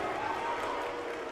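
An esports arena crowd at a Counter-Strike playoff match between Astralis and Virtus.pro produces a sustained, dense wash of booing and crowd noise, steady and loud throughout the brief moment.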